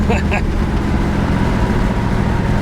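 A 1968 Chevrolet Camaro RS/SS with 373 gears drives with a loud, continuous engine roar and road noise from inside the car, with a brief voice near the start.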